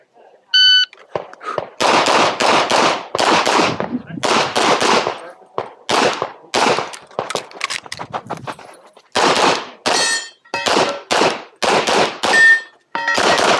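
Pistol gunfire at a USPSA Limited Nationals match: a shot timer beep, then fast strings of sharp, loud close shots in bursts with brief pauses, another beep and more rapid fire near the end.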